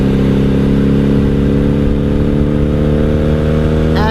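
A 1997 Honda Magna VF750C with Vance and Hines exhaust pipes, cruising in fifth gear, gives off a steady, loud, close engine drone with a deep, even rumble throughout.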